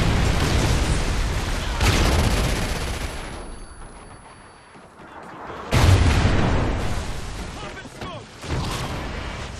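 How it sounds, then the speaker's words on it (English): Trinity rocket strike explosions in Call of Duty: Ghosts, loud rumbling blasts and crackling gunfire in heavy bursts that fade briefly before two more booming impacts, with a voice speaking underneath. "Friendly Trinity rocket sounded inbound."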